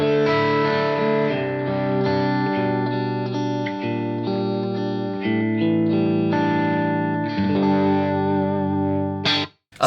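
Electric guitar through a KMA Machines Endgame pedal with gentle reverb ambience, several chords played loud and close with a soft tail, ending in a brief abrupt noise.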